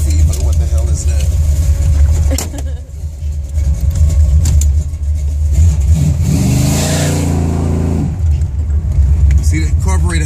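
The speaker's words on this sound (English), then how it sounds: "The carburetor bogs a little, Steve." A Buick Regal with a 455 engine and a Stage-1 carburetor setup revs up loudly from inside the car, hesitating and bogging before climbing again, with a rising engine sweep near the end.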